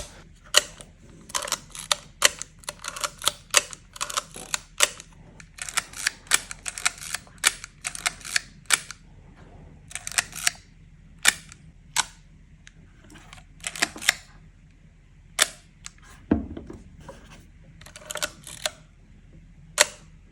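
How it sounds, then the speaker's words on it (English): Rapid mechanical shutter clicks from a Leica rangefinder film camera, fired many times in quick runs and single snaps, crisp and close with quiet gaps between. "Okay, shutter sounds."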